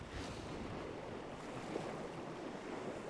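Blustery wind roaring across an open gravelly beach on a coastal plain, buffeting the microphone, with surf rumbling underneath.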